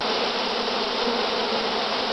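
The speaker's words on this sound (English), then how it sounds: "A bee swarm is a group of bees that, along with the queen, leave their hive to find a new home." A swarm of honey bees produces a dense, steady buzzing drone, loud and close, with no pauses or voices.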